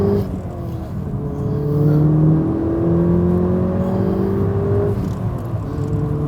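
An Audi S1 fitted with a TDI tuning box pulls hard in second gear, its engine note climbing steadily in pitch from inside the cabin, loud and continuous with no talking.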